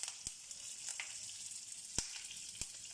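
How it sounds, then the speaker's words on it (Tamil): Chana dal, urad dal, red chillies and coriander seeds fry in hot oil for a wedding-style sambar, giving a soft steady sizzle with a few sharp pops and crackles, near and fairly quiet, no voices. "மிளகாய் தனியா போடணும். ஃப்ரை ஆகட்டும்."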